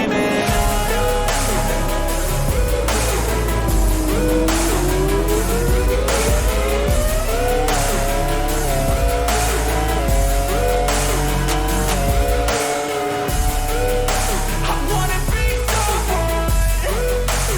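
A race car in the sim racing game Automobilista 2 screams through gear changes with rising engine pitch and tire squeal, loud and continuous, mixed with music and no talking.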